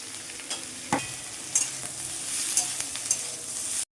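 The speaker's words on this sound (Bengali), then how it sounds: "আমার পেঁয়াজটা লাল লাল করে ভাজা হয়ে গেছে" Onions fry in plenty of oil in a pan for mutton, a steady close sizzle broken by the repeated scrape and clatter of a spoon stirring them.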